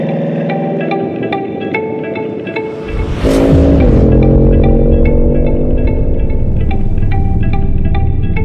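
A Bugatti Chiron supercar idles with a steady low hum, then its engine swells loudly as the car pulls away at about three seconds, holding a strong, even drone to the end.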